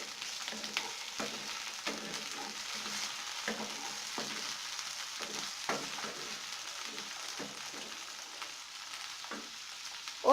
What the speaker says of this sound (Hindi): अब मैं इसमें मटर डालूंगी, टमाटर डालूंगी और इसे अच्छे से मिक्स कर दूंगी।